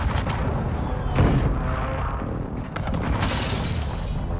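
A Call of Duty: Modern Warfare II airstrike lands as a loud rolling barrage of blasts and shattering debris, rumbling continuously with a heavy crash near the middle and another burst toward the end.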